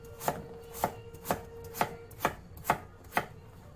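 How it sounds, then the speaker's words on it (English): A knife chops through sweet potato on a cutting board in eight sharp, evenly spaced strokes about half a second apart, close and clear with no talking. "I know you love the chopping."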